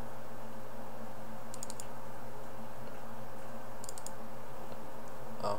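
Two quick mouse double-clicks while selecting cells in an Excel spreadsheet, crisp and close, separated by a few seconds of quiet room hum.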